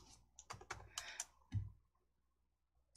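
Computer keyboard typing in a quick cluster of close, crisp key clicks, followed by a single heavier press of the Enter key, then near silence with a faint final tap.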